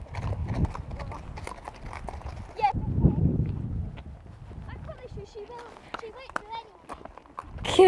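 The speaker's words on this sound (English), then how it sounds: "I'm riding my friend's pony Fifi, and we've basically had a complete swap" Pony hooves clip-clop steadily on a hack in the New Forest, a close, rhythmic run of hoofbeats, with a rider's voice and other riders chatting over them throughout.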